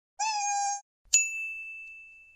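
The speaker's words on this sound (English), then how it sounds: "kitty cat." A cat gives two short, clear meows close by, each a separate call with a brief silence between them.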